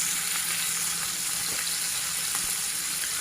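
Aila fish frying in a pan on a medium flame, giving a steady close hiss and crackle of hot oil with faint scattered pops throughout.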